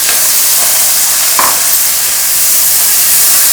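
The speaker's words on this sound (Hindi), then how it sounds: "अब मैं टमाटर शामिल करूँगी," Tomatoes dropped into a hot pan of oil with golden fried crushed ginger and garlic, giving a loud, steady sizzle and hiss that fills the whole short stretch, with no talking.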